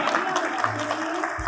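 An audience claps at a Maharaja Agrasen Jayanti celebration in Brampton, a soft, dense patter of hands running under a speaking voice.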